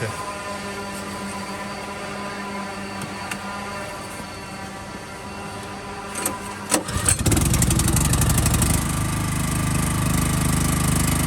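A generator housed inside a protective enclosure box starts up partway through, then settles into a loud steady running drone after a quiet stretch with a low background hum.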